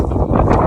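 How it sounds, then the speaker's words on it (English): Loud, low buffeting rumble of wind hitting the microphone, continuous and heavy over the short stretch. "It's windy as hell."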